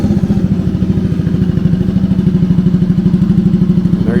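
A 1964 Honda Cub CA102 motorcycle engine idles steadily up close, a low, even putter with a regular thumping rhythm that holds throughout.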